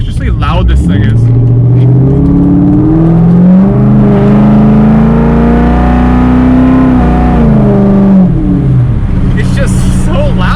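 A very loud sports car engine revs up in a strong pull, its tone climbing and holding close and dominant before easing off, with no speech over it.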